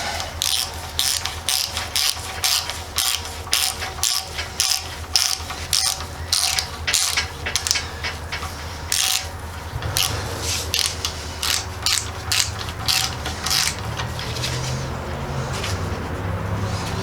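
A ratchet tightens bolts on a 2010 Mazda CX-7 engine during timing chain replacement, producing rapid, close, loud clicking strokes in steady bursts that continue through most of the stretch with mechanical rattling underneath.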